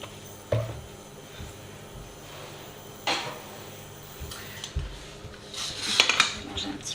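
Eggplant, zucchini, tomato pulp and olive oil get stirred in a pan, with a few soft clinks and scrapes of a utensil against the pan that grow busier toward the end, over quiet room noise.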